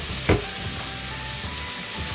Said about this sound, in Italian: Il pesce spada e me lo vado a mettere in padella con un pochino di olio, sentite?